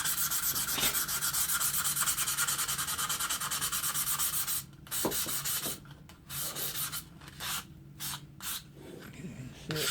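A Stanley No. 3 hand plane body being sanded with 180-grit paper: a continuous close rubbing rasp that breaks into separate short back-and-forth strokes in the second half.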